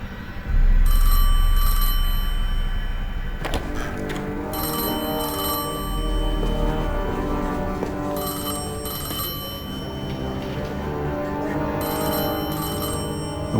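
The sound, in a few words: telephone ringing, Destiny 2 video game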